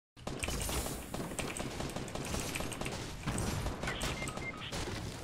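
Rapid gunfire in the Fortnite battle royale video game, a sustained rattling volley of shots that starts abruptly and continues without pause, fairly quiet overall and with no speech.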